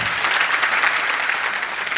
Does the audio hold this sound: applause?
yes